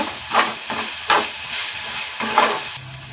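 A spice base fries in oil in a pan while being stirred, a close, steady sizzle and hiss swelling with each scrape of the spoon in a rhythmic pattern, with no talking.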